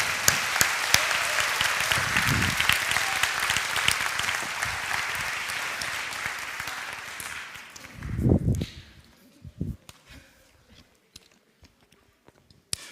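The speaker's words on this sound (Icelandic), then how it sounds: "En við ætlum að gefa Hákoni alveg ofboðslega gott klapp." A church congregation applauds during a Sunday service, sustained dense clapping for about eight seconds that then fades to a few scattered claps and quiet room noise.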